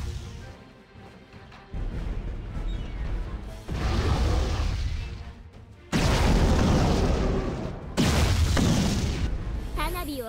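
Booming bursts from a fireworks attack in the video game Abyss Horizon, a series of loud explosions arriving in separate waves every couple of seconds, each swelling and fading with crackling tails.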